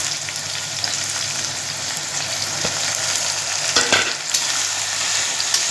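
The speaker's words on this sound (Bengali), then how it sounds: "সেগুলো এখন কড়াইতে আমি দিয়ে দিলাম। আলুগুলো হালকা ভাজা হয়ে গেছে।" Cubed potatoes and chopped onions sizzle steadily in hot oil in a kadai, a close, bright frying hiss with brief scrapes of stirring, with no talk.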